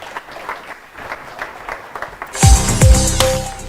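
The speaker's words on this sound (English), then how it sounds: "A big round of applause to every one of you." An audience applauds at a tech accelerator launch event in Kenya, a steady wash of clapping that swells as bright music with a deep bass sweep enters halfway through and plays over it.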